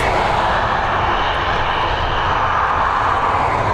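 An airliner's engines roar loud and continuous during takeoff at Dublin Airport, a broad, unbroken wash of engine noise with no talk.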